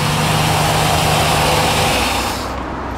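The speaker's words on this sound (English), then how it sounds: "The idle's a little bit high because it's just on choke at the moment" A Rover V8 engine idling on choke close by at a steady, slightly raised speed, a continuous rumble that eases a little at the end.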